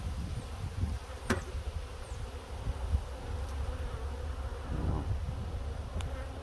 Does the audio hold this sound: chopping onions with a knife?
no